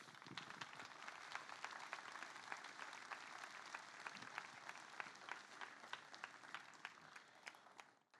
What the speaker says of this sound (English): Please keep that round of applause going.